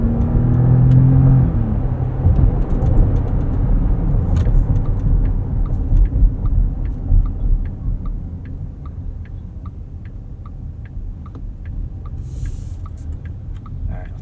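A 2024 Porsche Cayenne E-Hybrid accelerates with a loud low engine rumble that swells early, then eases into a steadier drone, heard close from the cabin with faint ticking and no talk.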